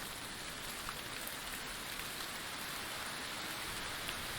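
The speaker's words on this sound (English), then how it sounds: "Still raining." Steady, heavy rainfall in the survival video game The Infected, a dense continuous hiss of drops on surfaces with no pauses, voices or other sounds.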